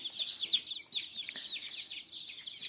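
Dense high-pitched peeping fills the space as a brood of young chicks, a few days out of the incubator, crowd under an infrared heat lamp, chirps overlapping steadily and close by without speech.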